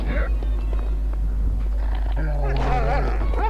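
Dogs in the video game Nosferatu: The Wrath of Malachi growl and snarl as they attack, a rough rising growl near the end over a steady low hum, with a voice talking intermittently.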